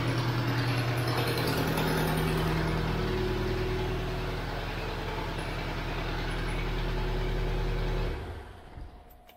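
A 2001 Chevrolet Tracker engine with a power-loss fault runs loud and steady with a deep, even mechanical drone close by, then cuts off abruptly near the end, leaving a brief faint rattle.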